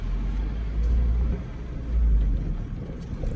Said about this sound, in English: I got a bunch of cars on my left and cars on my right